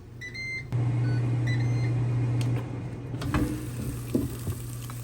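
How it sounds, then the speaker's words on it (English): An air fryer running at 390 degrees with turkey burgers inside gives a steady, close hum with a faint sizzle, a few beeps at the start, and clicks and handling noises near the end. "Now into the air fryer for about 6 minutes per side"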